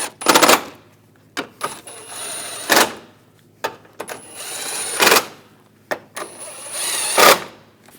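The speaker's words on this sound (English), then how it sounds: "And tighten these down." Bolts being tightened on the air intake splash shield of a 2014-2018 GMC Sierra, heard as several separate bursts of a power driver or ratchet, each a second or so long, close and loud with short pauses between them.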